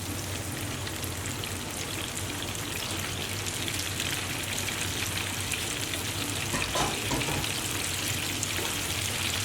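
Chicken pieces deep-frying in a fryer basket of hot oil for orange chicken, a steady loud dense sizzle and crackle throughout with no talking.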